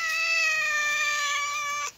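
A cat in a village garden gives one long, steady, tonal meow lasting nearly two seconds, loud and close, that cuts off abruptly.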